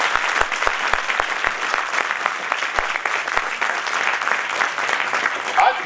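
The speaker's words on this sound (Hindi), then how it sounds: "जोर से ताली बजाइए।" A large audience claps loudly and steadily at a talk by the Governor of Uttarakhand, with a few sharp individual claps standing out at the start before the applause settles into an even, continuous roar.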